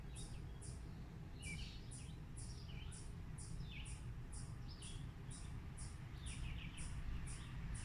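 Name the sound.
birds singing in a backyard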